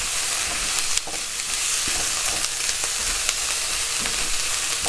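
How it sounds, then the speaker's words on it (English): Pieces of osso buco searing in a hot pan while being stirred and moved around; a constant loud sizzle with occasional scraping and clacking of the utensil against the pan, no talking. "And we'll let this start cooking, okay? Stir it up."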